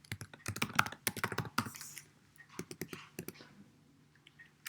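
Quick bursts of computer keyboard typing, close and crisp, with clusters of clicky keystrokes separated by brief pauses in a quiet room.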